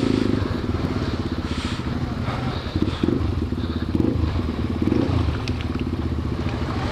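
A Yamaha TW200 motorcycle rides through deep mud on a trail, its engine droning steadily and loud up close while the wheels splash and clatter.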